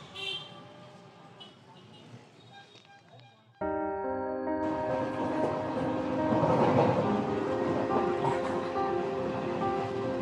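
A crowded evening Sealdah local train rumbles along the tracks with a steady, loud mechanical drone that swells suddenly partway through, a faint horn tone ringing above it.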